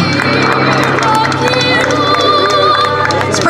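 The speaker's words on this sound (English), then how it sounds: "Everybody give a round of applause to Lee." Crowd applause and cheering at the Sun 'n Fun airshow after a P-51 Mustang demonstration flight, steady and loud, with a busy hubbub of voices and an announcer's tones mixed in.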